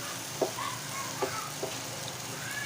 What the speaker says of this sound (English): after putting your fish, you stir it for about 2 seconds